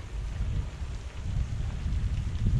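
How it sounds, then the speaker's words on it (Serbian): Heavy water pouring down from a waterfall onto a vehicle passing beneath it on Bolivia's Death Road, a dense, steady roar and splatter like torrential rain, loud and close throughout with no voices. "Evo sad ćemo proći ispod vodopada"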